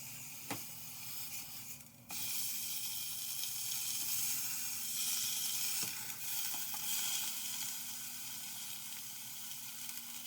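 Steady bubbling and sizzling from a pot of beef stew on the stove, a continuous hiss with occasional soft pops, close by and fairly loud.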